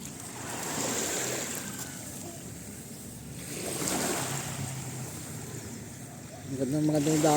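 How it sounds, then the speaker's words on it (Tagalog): Large sea waves breaking on the shore, a faint, surging wash that swells and recedes in slow cycles with wind noise, while people talk over it nearby. "Maganda yung dagat oh. Ang malalaking alon."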